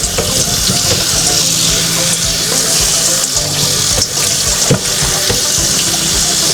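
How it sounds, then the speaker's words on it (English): Tap water pours steadily into a sink, rinsing a cabbage, with a continuous loud splashing rush and occasional thumps as the head is turned under the stream. "Now rinse it off first before I start pulling off the leaves."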